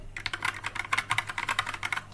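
Fingers type rapidly on a Kraken Pro 60% gaming keyboard, producing a dense, steady clatter of close, crisp keystrokes with no pauses.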